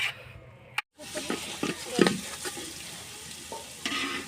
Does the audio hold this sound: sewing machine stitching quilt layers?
no